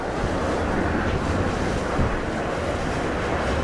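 A strong storm wind gust at Paris airport sounds as a loud, continuous broadband roar of rushing wind and microphone buffeting that stays steady throughout, with no voices.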